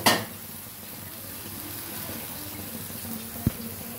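A splash of water hits a hot pan of onion, garlic and spices cooked in a little oil for a country chicken curry. A sharp burst at the start settles into a steady sizzle, and a utensil clinks once near the end.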